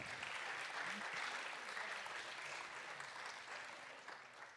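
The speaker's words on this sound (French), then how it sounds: "Alors, ils sont moins nombreux, mais on peut applaudir." An audience at a digital-sector award ceremony claps steadily in a sustained round of applause that fades slightly toward the end.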